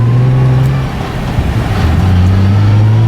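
A Nissan 350Z being driven, its engine a steady low drone throughout, loud and close from inside the cabin, with a brief dip in level midway that suggests a gear shift before the engine note settles again.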